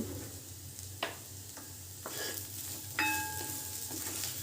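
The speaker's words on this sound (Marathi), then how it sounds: "आता बघा सर्व मसाला सहित आपलं तेलामध्ये छानपैकी फ्राय करून झालेलं आहे" Spices fry in hot oil in a pan for a Marathi-style pavta bean curry, giving a soft continuous sizzle broken by a few clinks and stirring taps.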